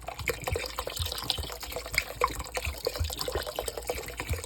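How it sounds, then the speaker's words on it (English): Sweet red wine poured into a pot of braised beef ribs, giving a close, steady liquid trickle and splash with small drips throughout and no talking. "Now I'm going to add in some sweet red wine."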